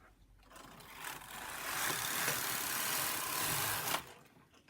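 A knitting machine carriage is pushed across the bed knitting a zigzag row on a double-bed setup for tuck and slip stitch, giving a steady whirring, clattering rush that builds for about three seconds and then stops.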